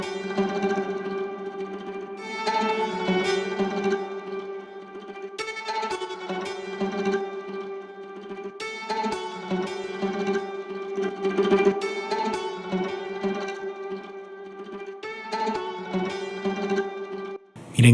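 Orchestral strings from the Analog Strings virtual library on its Ethnic Heaven preset play sustained, layered chords that swell and shift through several changes, with steady, continuous texture and no voices.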